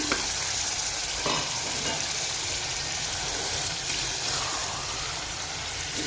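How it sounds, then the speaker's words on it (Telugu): Mutton hits a hot pan and fries for a pepper mutton curry, giving a loud steady sizzle with a few stirring scrapes, close up and with no one speaking. "ఇప్పుడు మటన్ని దీంట్లోకి వేసేస్తున్నాం."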